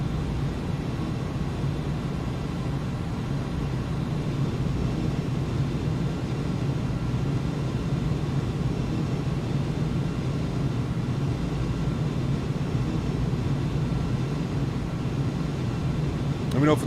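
Engines of an iniBuilds Airbus A300 BelugaST in the X-Plane 11 flight simulator make a steady, loud, continuous low drone and whine throughout, with a voice talking over it.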